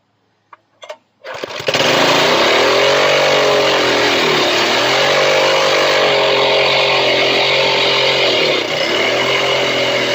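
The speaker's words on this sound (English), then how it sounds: "tiller motor with a Rhino something or another turbocharger from eBay on it" A turbocharged tiller engine fitted with an eBay turbocharger and fed carb cleaner pops a few times, catches, then screams at a loud, steady high rev, its pitch wavering slightly as it holds near the limit.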